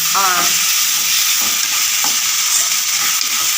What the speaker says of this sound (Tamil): போட்டு நல்லா பச்சை வாசனை போகிற வரைக்கும் வதக்கிக்கிடுவோம்.